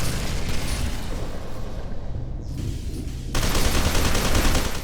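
Heavy gunfire fills a FEAR 2 street fight, with continuous loud automatic bursts and booming impacts that swell again near the end.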